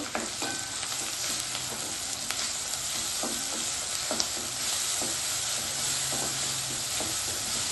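Ground green chili paste sizzles and fries steadily in a hot pan, a dense continuous crackle with occasional scraping stirs, close and fairly loud with no talking.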